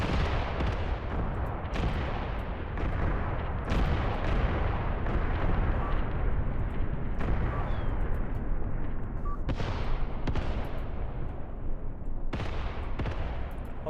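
Artillery fire in the war game Graviteam Tactics, a dense rolling rumble of heavy booms and blasts repeating every second or two without pause, loud and close.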